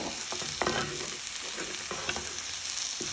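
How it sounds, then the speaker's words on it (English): Vegetables sizzle steadily in a hot pan, with occasional clinks and scrapes of stirring over the constant frying hiss. "Now you're going to start frying your vegetables so they go nice and soft."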